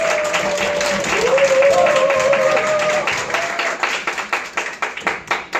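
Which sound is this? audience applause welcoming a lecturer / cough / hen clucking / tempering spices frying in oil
audience applause welcoming a lecturer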